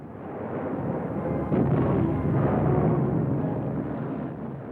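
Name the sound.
WWII anti-aircraft gunfire, 37mm guns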